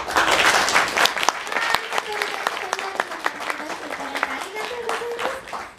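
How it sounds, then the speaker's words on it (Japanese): Audience applause and clapping welcoming a band at a fan club event in a Tokyo live club, loud at first then settling into steady clapping, with a voice speaking over it. "それでは皆さん大きな拍手でお迎えください。"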